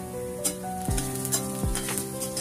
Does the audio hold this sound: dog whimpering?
no